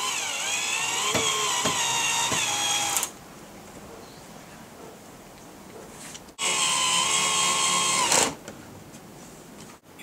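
Cordless power drill driving 5cm screws into the wooden parts of a chicken coop, two loud whirring bursts of about three seconds each separated by a quieter pause, close and alone without talk.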